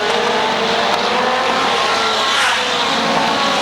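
NEMA midget race cars roar around the oval at Waterford Speedbowl, a loud, continuous engine blare from a close pack of cars that holds steady without a break.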